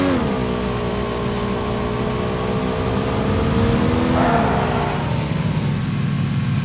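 Car engine in PUBG, revving and accelerating in a sustained mid-pitched drone that climbs, then shifts and settles, heard close and loud with almost no talk over it.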